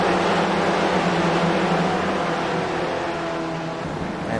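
A sim-racing race car at Phillip Island runs flat out toward a fourth-gear left-hander, its engine a steady, loud, unbroken drone filling the whole stretch with no talk.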